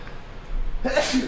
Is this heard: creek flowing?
no